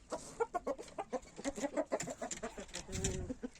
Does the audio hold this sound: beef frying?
no